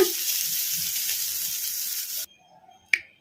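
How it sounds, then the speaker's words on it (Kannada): Soya chunks fry in a kadai on high flame, a loud steady hiss and sizzle that cuts off abruptly, followed by near silence and a single sharp clink. "ಸೋಯಾ ಚಂಕ್ಸ್ ಚೆನ್ನಾಗಿ ಫ್ರೈ ಆಗಿದಾವಲ್ಲ"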